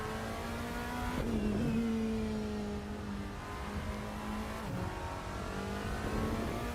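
BMW race car engine revving in the sim racing game Rennsport, a steady mid-pitched drone that shifts and dips twice between gear changes, loud and close throughout with no talking.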